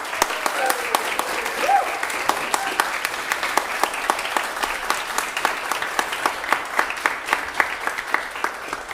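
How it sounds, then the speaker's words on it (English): An audience at a band concert applauds for several seconds, a dense, steady patter of many hands heard alone with no talking. "I'd like to hear you all giving Gareth another round of applause."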